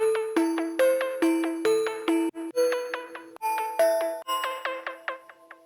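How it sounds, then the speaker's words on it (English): A bright synth bell patch from Ableton Operator, thickened with chorus, plays a repeating melodic pattern of clear ringing notes with quick decays and shimmering overtones, alone and fairly loud. "for this main like sort of bell sound"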